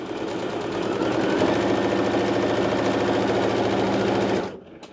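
A sewing machine runs a quick straight stitch down the edge of the fabric, a steady rapid mechanical whir that holds for about four and a half seconds, then stops abruptly.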